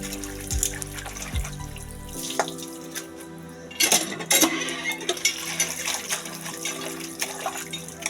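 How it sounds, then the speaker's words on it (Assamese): Leafy greens (bhedailota and curry leaves) are rinsed in water in a kitchen, with steady running water, splashes and clinking, close and alone. "প্ৰথমতে শাকখিনি মই অকণমান ধুনীয়াকৈ ধুই ল'লোঁ।"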